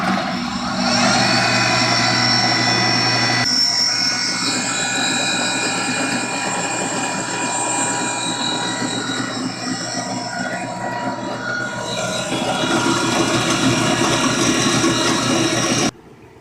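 A homemade shaper's three-phase motor runs nearby with a loud mechanical hum and a rattling, ratchet-like clatter, its tone shifting partway through before it cuts off at the end.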